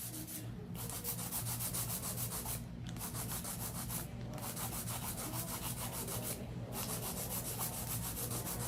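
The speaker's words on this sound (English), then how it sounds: "Same thing, hand filing, balancing out the nail." A 100 grit hand file rasps across an acrylic powder nail in steady, close strokes, a continuous gritty scraping broken by a few brief pauses, with no talk.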